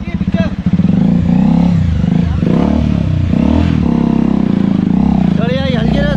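A Bajaj Dominar motorcycle rolls at light throttle on a rough off-road track near Toranmal, its engine droning loud and steady with clattering and scraping from the terrain, while a voice talks over it.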